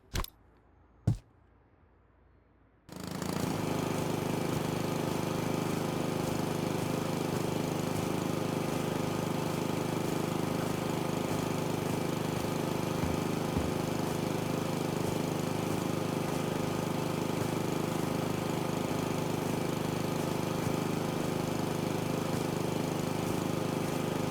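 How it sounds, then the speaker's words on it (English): A lawn mower cutting grass in the game House Flipper 2 starts after a few quiet seconds with a couple of clicks, then drones as a steady, loud engine hum for the rest of the stretch, with no talk. "I know it's not very realistic mowing, but I'm actually really liking it."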